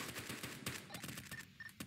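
Rapid bursts of automatic gunfire crackle in an SCP multiplayer video game, several volleys in quick succession at moderate distance, fading toward the end.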